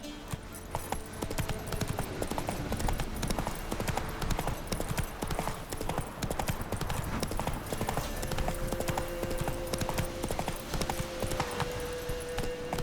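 Roach, Geralt's horse in The Witcher 3, gallops with steady, rapid hoofbeats in a continuous clip-clop rhythm, close and prominent over game ambience and music.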